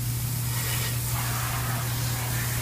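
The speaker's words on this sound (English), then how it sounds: "grab the water hose and spray nozzle and target everywhere on the body and the wheel wells of the car" A water hose with a spray nozzle blasting a golf cart's body and wheel wells, a steady close hiss of spray with a low hum underneath, continuous and unbroken throughout.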